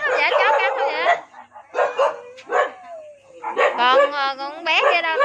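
A dog in a poor neighborhood yard barks and yips in short bursts with some whimpering, close by, mixed with people talking nearby.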